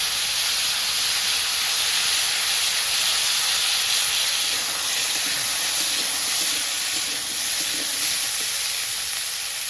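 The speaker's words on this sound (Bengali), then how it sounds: "এবারে আলুটা দিয়ে দিলাম।" Potatoes dropped into hot oil with cumin seeds, sizzling with a steady, loud, bright hiss that holds evenly from start to finish, with no talking.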